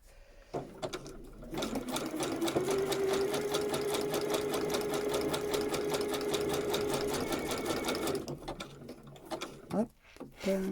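A sewing machine runs a zigzag stitch through coffee filters in one fast rhythmic burst of about six seconds, close up and alone, with short handling clicks before and after.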